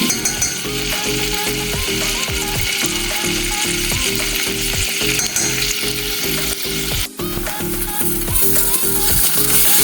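Flour is added to a hot frying pan while making creamy garlic pasta; a loud, steady sizzle fills the clip with a regular scraping rhythm running through it.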